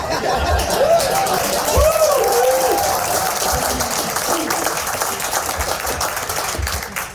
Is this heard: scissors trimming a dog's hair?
no